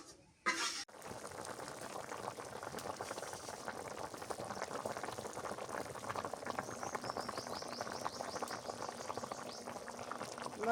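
Curry liquid with milky water boiling in a pot, a steady close bubbling simmer that runs continuously after a brief clatter at the start.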